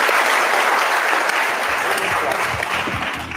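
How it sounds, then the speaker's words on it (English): Audience applause for the top two finishers at a book festival competition, a loud, even wash of many hands clapping close by, tapering slightly near the end with faint voices under it. "We got an applause for both of them"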